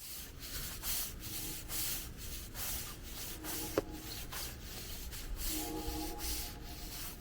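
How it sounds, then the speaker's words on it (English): Sharp sand brushed across paving with a stiff broom, steady rhythmic scraping strokes repeated close by throughout, with one brief sharp knock midway and no voices. "I then brushed some sharp sand over it to help lock it in place."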